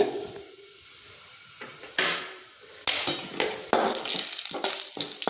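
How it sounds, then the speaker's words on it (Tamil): Urad dal, chana dal, cumin and pepper fry in hot oil for a tomato chutney, bursting into loud sputtering sizzles in several sharp surges after a quieter start, close up, with light pan clatter. "இப்போ எண்ணெயில் உளுந்தம்பருப்பு, கடலப்பருப்பு, சீரகம், மிளகு இதெல்லாம் போட்டுக்கிறேங்க"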